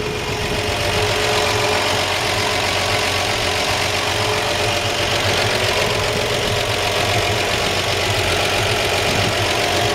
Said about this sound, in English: Nice typical purr and clickety clack of a solid lifter 235 6-cylinder engine.